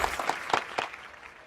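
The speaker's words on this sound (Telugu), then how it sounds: "చప్పట్లు కొడుతున్నాను" A short patter of hand clapping: a handful of sharp, fairly quiet claps in an irregular rhythm that trail off, with no voices.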